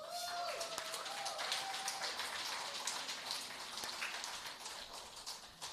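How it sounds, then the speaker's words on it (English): An audience applauds rural women and girls at an agricultural display and media launch in Jamaica, a steady, fairly soft patter of many hands that holds for several seconds with a voice faintly present. "Let us give all our rural women and girls a specific applause"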